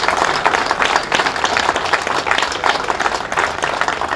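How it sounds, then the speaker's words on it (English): Crowd at an outdoor police district anniversary and community day giving a round of applause, steady moderately dense clapping with a slightly distant, open feel lasting several seconds. "Can we give Commander Spears and the men and women under his command a round of applause for this day?"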